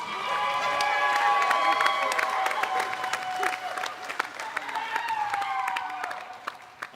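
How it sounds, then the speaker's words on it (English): A crowd applauding competitors at a women's lumberjack sports championship, with sharp scattered claps, loud at first and then thinning out, with some high voices and whistles mixed in. "Give them all a big round of applause."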